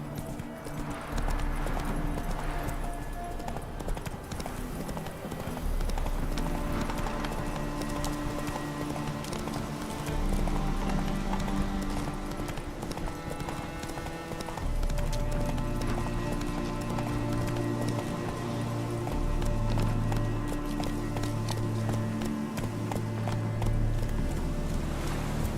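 Roach the horse gallops in The Witcher 3, a steady fast rhythm of hoof clip-clops over a game music score, with brief speech at times.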